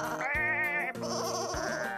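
Cartoon sheep bleat in a wavering, musical voice, with several bleats in a row, loud and close, over a soft background score, with no talk.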